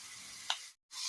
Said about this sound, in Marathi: व्यवस्थित फ्राय करून घ्यायचं.